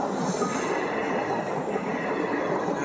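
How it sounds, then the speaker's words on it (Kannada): A train rolls past on a railway track in cold, snowy mountain country on the way to Kashmir, a loud, continuous rumble with high metallic wheel squeal throughout and no talking. "ಟ್ರೈನ್ ಹೋಯ್ತಾ ಇದೆ,"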